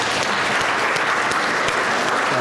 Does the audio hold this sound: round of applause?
yes